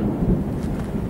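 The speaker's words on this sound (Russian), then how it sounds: "гроза там не шуточная" Thunder from a distant storm over a mountain gorge, a low muffled rumble rolling steadily with no other sounds.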